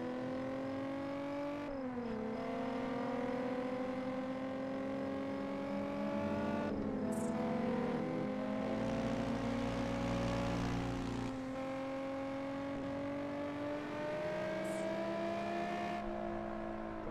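Car engine in the video game Gangster New Orleans, a steady droning tone that shifts pitch as the car drifts, with tyre scrub and a few sharp clicks over roughly seventeen seconds.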